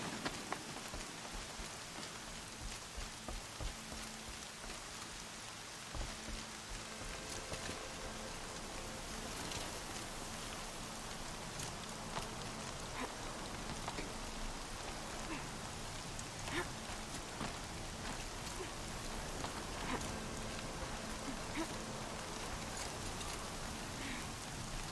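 Heavy rain in the video game Horizon Zero Dawn, a steady dense hiss of falling drops with scattered patters, constant and fairly faint throughout with no talk.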